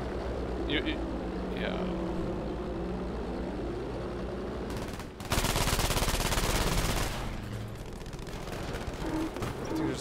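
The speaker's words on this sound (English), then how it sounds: "I think there's a small plane." A small plane drones over a Battlefield V match amid rapid machine-gun fire and explosions; a loud burst of gunfire dominates the middle while engine hum and a brief voice sit underneath.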